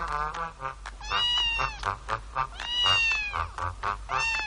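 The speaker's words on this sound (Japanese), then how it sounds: "猫がいます。" A cat meows repeatedly at close range, a run of drawn-out, rising and falling meows with short gaps between them, loud and clear with no talk.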